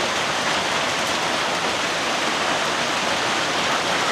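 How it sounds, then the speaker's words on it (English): Heavy rain pours down steadily around a cabin under construction, a dense, unbroken hiss of close, loud rainfall with no pauses or voices. "It's still raining"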